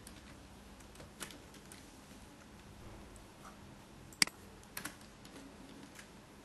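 Light computer keyboard typing while writing HTML form code, soft scattered keystrokes with a few sharper clicks, faint and close with no talking.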